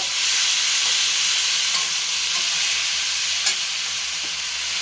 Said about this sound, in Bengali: কুচানো সবজিগুলো দিয়ে এবার একটু নাড়িয়ে নেব